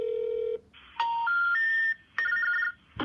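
Telephone keypad tones sound as a call is dialed: a steady tone, then a series of short dual-pitch beeps of varying length with brief gaps between them, loud and close with no talking.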